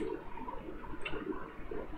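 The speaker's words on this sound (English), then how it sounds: "Oh, I did just draw water for her." Water being drawn from a well in a video game, a short low splashing and gurgling swell, fairly faint, alone without talk.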